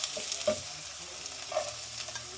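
Garlic sizzling in a hot pan for soup while a spoon stirs it, giving a soft, steady frying hiss with a few light scraping strokes, close and fairly quiet, with no talking.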